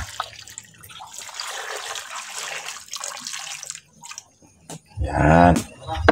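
Water pours steadily into a cooking pot at an outdoor wood fire, with a continuous splashing rush followed by a brief pause and a short voice at the end.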